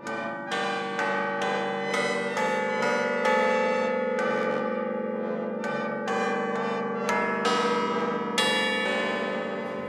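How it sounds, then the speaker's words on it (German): Newly cast church bells for St. Nikolai ring out in a specially composed piece, with repeated resonant strikes of several pitches following one another in a measured pattern, each note leaving a long shimmering hum beneath the next. "ein eigens komponiertes Musikstück, in dem die Glocken die Hauptrolle spielen"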